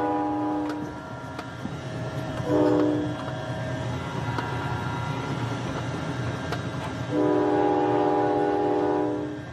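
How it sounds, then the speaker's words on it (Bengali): Sound effect of a train in a Bengali detective audio drama: a steady rolling rumble of wheels on track, broken by two long, loud horn blasts, one short and one longer, with no voices. "এই বলে ব্যোমকেশ আর আমি ট্রেনে উঠে পড়ি।"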